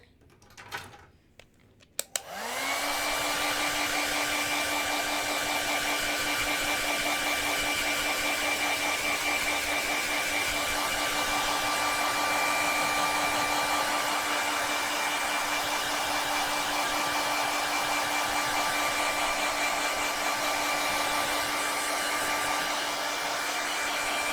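After a few clicks, a hair dryer starts up close by and runs loudly and steadily without pause, blowing on acrylic paint layers of a bokeh background painting, its whine unchanging throughout.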